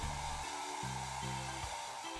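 A hair dryer blows steadily at close range to set Halloween makeup, its whirring drone shifting pitch slightly as it moves, with no voices.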